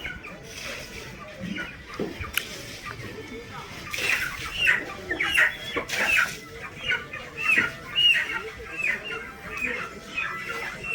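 Chickens clucking at a chicken shop in a busy Delhi market, repeated close, rhythmic clucks over a murmur of people talking in the background.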